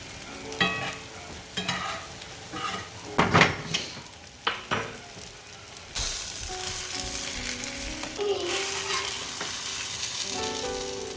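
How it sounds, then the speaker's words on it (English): Cheese and a corn tortilla frying in a pan: several clattering knocks and scrapes of a utensil against the pan, then a loud, steady, close sizzle that fills the rest, with no voices. "add a little bit of cheese to the pan, put the tortilla on top, and then let the cheese get nice and crispy"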